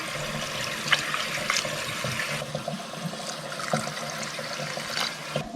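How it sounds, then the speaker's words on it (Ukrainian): Water pours steadily into a multicooker pot for borscht at close range, a continuous rushing splash with slight changes in tone as it fills. "Заливаю воду."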